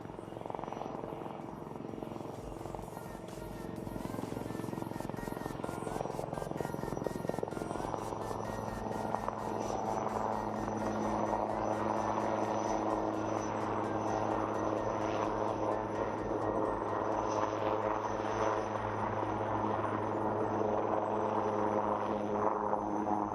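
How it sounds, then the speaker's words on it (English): A light combat helicopter drones steadily for a long stretch at an air show flying display, moving sideways parallel to the runway, its rotor thudding rhythmically over a constant engine roar at moderate distance. "The helicopter will now perform some sideward movement parallel to the runway."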